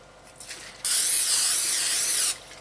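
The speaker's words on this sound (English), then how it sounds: "We spray our pan with the cooking." A can of cooking spray hisses onto a baking pan in one sustained burst of about one and a half seconds. The spray sounds close and fairly loud, with soft handling noises just before it.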